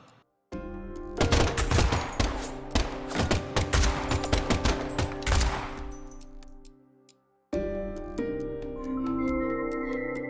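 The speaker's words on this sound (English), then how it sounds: "the last gunshot we heard sounded ominous, Zach." Rapid bursts of automatic gunfire and single shots from the game Deadly Premonition 2, loud and dense for several seconds, then a brief silence before another steady burst of firing resumes.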